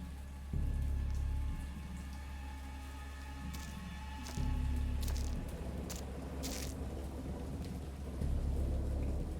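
Heavy rain pours steadily through a storm while deep rolls of thunder swell in three separate booming waves, with sharp crackling drops and splashes scattered over the top and no voices.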